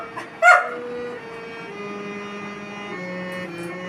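Koko, a pet dog, gives a short yelp and then a long drawn-out wavering howl, as if singing along, held steadily at moderate volume in a quiet room.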